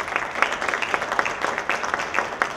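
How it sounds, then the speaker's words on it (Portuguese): Audience applause for Joaquim Barroncas at a book launch event, a steady, fairly close patter of many hands clapping throughout without a break. "gostaria de pedir uma salva de palmas para o Barroncas"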